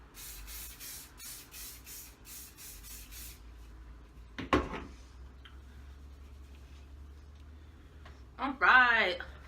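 Hairspray hisses onto curled hair in several quick bursts, moderately close, followed by a faint rustle and a brief louder rustling near the end.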